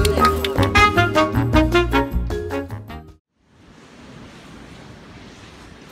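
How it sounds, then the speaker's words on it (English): Ocean surf at Malibu rushes in as a steady, broad wash of breaking waves after a few seconds of loud music cuts off abruptly. "We have some waves today."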